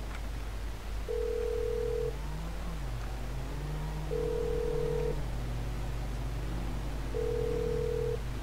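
A phone rings in GTA 5 in three evenly spaced electronic trills, each about a second long, over a low steady hum with a faint wavering tone beneath, and no voices.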